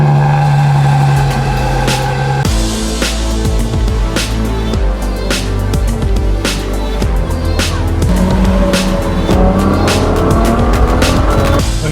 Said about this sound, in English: let's take the Lusso for a drive.